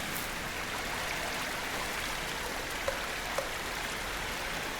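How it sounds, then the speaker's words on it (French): A small waterfall runs in a sheltered spot out of the wind and rain, giving a steady, even rush of water with a couple of faint drips or splashes near the end, and no one speaking. "Elle est bien là, à l'abri du vent, à l'abri de la pluie, une petite cascade."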